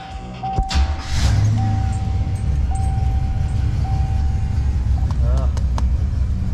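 A Cadillac engine fitted with a Quadrajet carburetor cranks and catches, settling into a low, steady rumble close by. A repeating electronic chime tone sounds over the idle.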